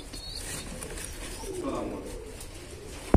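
Girbaz pigeons at a pigeon farm give a soft, low cooing in the middle of the stretch over a quiet background hum, and a sharp click sounds at the very end.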